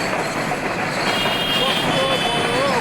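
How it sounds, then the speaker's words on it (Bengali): A long freight train rolls past in Bangladesh, a steady loud rumble of wagons with faint wheel squeals over it, while someone talks throughout. "আমার বাংলাদেশের ট্রেন, জয় বাংলা ট্রেন।"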